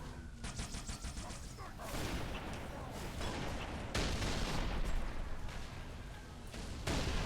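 A Brute Shot grenade launcher fires in a modded Halo 3 game on the Sierra 117 level: a loud, continuous barrage of booming shots and blasts, close and layered over dense battle noise throughout.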